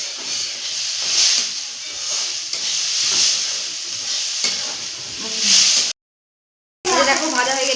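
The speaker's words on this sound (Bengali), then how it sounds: "এই যে ডালটা ভেজে নিব, এটা মুগের ডাল।" Mung dal dry-roasting in a pan gives a steady, close hiss and sizzle with light stirring scrapes for about six seconds, then a short gap of silence before a brief burst of sizzling and stirring.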